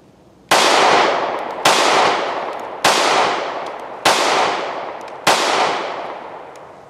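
Five shots are fired from a Smith & Wesson Equalizer 9mm pistol, each a sharp, very loud crack followed by a decaying echo, evenly spaced about a second apart with nothing else heard.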